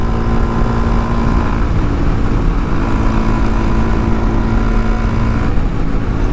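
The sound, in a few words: Honda Grom motorcycle riding downhill at about 60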